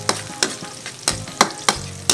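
Onions frying in a pan for squid adobo: loud close sizzling with sharp, regular spatula scrapes about every third of a second, no talking.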